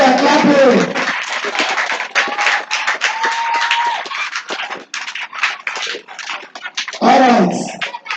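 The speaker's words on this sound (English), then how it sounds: "Clap for our daddy here." An audience at a college talk claps hands in a loud, close, uneven patter of many individual claps, with voices rising over it at the start and again near the end.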